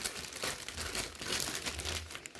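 Plastic packaging around an Arduino Uno starter kit crinkles and rustles as it is cut open, a close, busy crackle lasting a couple of seconds.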